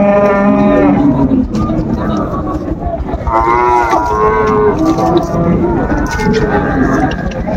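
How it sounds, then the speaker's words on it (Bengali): Cows and calves moo loudly and repeatedly at a busy rural cattle market, Raniganj haat in Dinajpur, where dairy cows and calves are sold, their long harmonic calls overlapping close by amid steady crowd noise. "গাভী বাছুর আমরা দেখছিলাম।"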